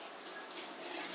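Tap water runs steadily as Omega VRT juicer parts are rinsed after making wheatgrass juice, a brief close splashing stream with no voices.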